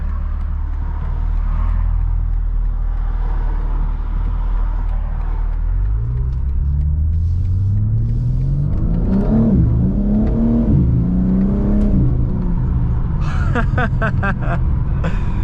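A 2021 BMW G80 M3 Competition engine rumbles and revs up under hard acceleration, rising whine of turbos spooling as pitch climbs, with a few fluttery chirps near the end.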